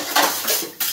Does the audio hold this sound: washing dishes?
yes